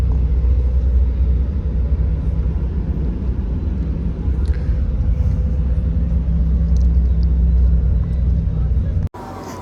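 Engine rumble inside the cabin of a sleeper bus: a loud, steady low drone that holds throughout, then cuts off abruptly near the end.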